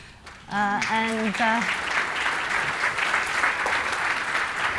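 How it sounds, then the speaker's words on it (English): After a short spoken phrase, an audience breaks into a round of applause for panelists at an infrastructure discussion, dense, even clapping that swells quickly and holds steady for several seconds. "Round of applause"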